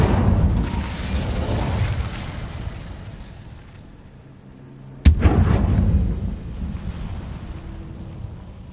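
An Incendio fire spell cast in Hogwarts Legacy on PS5: a loud, sharp blast that bursts into a roaring, crackling rumble and slowly fades, following an earlier sustained roar.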